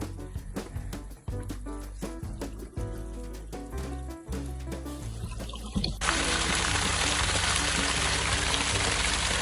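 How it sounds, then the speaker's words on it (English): Water splashes and pours continuously at close range, starting as scattered drips and splashes before turning into a steady, dense rush of running water that fills the rest of the clip, with no talking. "Water!"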